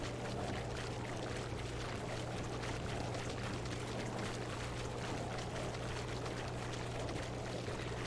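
Wading through deepening water in the video game Witcher 3, a steady, low, continuous sloshing and pouring wash, quiet and unbroken throughout with no voices.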